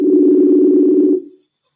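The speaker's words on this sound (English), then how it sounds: "And he is ringing, and away we go." Telephone ringing tone on a call into a live broadcast, a single steady loud electronic tone lasting just over a second before cutting off into silence.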